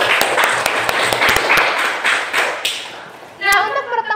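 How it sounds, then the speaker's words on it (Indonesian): Students in a classroom clap in a loose, uneven burst of sharp hand claps that thins out after a few seconds, followed by a teacher speaking. "Beri tepuk tangan untuk kita semua."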